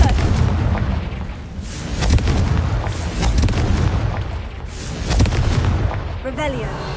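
The Confringo fire-blast spell from the game Hogwarts Legacy erupts in a loud, continuous rumble of booming explosions, with a whooshing swirl near the end.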